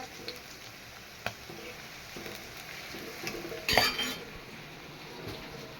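Garlic and ginger fry in a pan with a soft continuous sizzle, while occasional spoon clinks and a short burst of stirring scrape against the metal.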